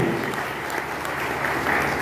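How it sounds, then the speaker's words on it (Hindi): Steady applause from a crowd fills the scene, a dense continuous patter of clapping at even loudness throughout. "एक बार जोरदार ताली"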